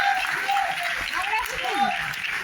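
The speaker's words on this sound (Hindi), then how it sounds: "पहले उस मैडम के लिए तालियां बजा दीजिए जो इतना एक्साइटेड है।" Clapping from an audience at a motivational seminar runs under a speaker's voice, a moderate steady patter lasting the whole moment.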